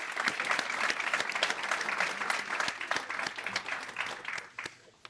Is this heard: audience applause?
yes